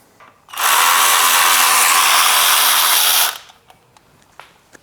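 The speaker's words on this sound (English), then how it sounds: "Now we just need to remove that bolt." A power tool spins out a bolt on a Nissan 4.0L V6 engine in a Frontier, Pathfinder or Xterra, one loud sustained whirring burst of about three seconds, then faint clicks and handling noises.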